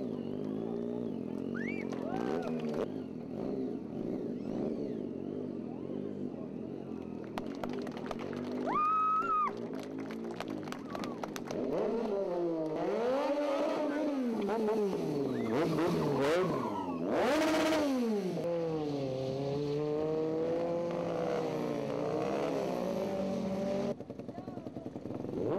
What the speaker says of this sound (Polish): występ Fragmenta, jednego z najlepszych polskich motocyklistów zajmujących się stuntem, czyli swego rodzaju akrobacją na motocyklu.